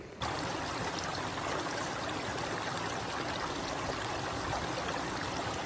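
A creek in Buckhorn Canyon flows with a steady, close rush of babbling water that starts abruptly and holds an even, fairly loud level throughout.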